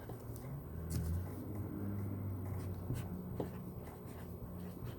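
Pen writing a short message while making a simple paper heart, a steady soft scratching throughout, with a low rumble running underneath and no talking.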